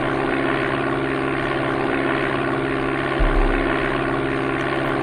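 Propeller airplane engine just after takeoff in the Amiga game Flight Simulator II, a steady, loud synthetic drone with a constant buzzing tone and a brief low thump partway through, heard alone.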